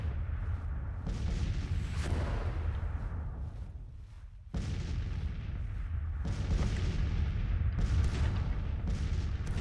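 Artillery salvos boom in a Civil War battle in the strategy game Grand Tactician, with deep rolling blasts that thunder and echo continuously, one heavy volley fading before another bursts in at full loudness.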